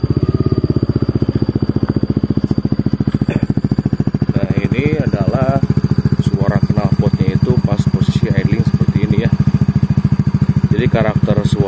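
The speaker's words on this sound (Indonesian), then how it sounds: "karakter suara knalpot ini ngebass ya, suaranya itu bassnya itu benar-benar ngebass" A Yamaha NMAX scooter fitted with a TZM SO-NON SS exhaust idles steadily up close with a deep, bassy, even pulse, while someone talks over it the whole time.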